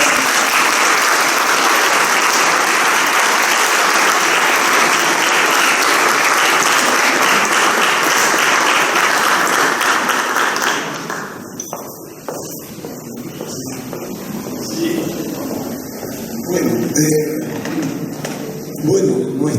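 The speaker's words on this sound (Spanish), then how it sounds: "Un aplauso, por favor." An audience at a conference breaks into loud, dense applause that lasts about ten seconds, then drops to a few scattered claps and room murmur with voices.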